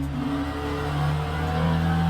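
A race car in the Le Mans Ultimate sim holds a steady, close engine drone at a constant pitch, cruising without pause and with no talk over it.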